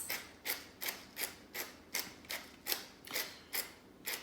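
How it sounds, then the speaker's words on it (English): A hand-cranked pepper mill grinds fresh pepper in a kitchen while a pub-style meatloaf is being made, giving about a dozen evenly spaced, gritty crunching strokes close to the mic with no voices. "I'm gonna grind in just some fresh pepper."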